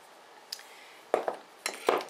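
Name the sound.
knife mashing garlic with salt into a paste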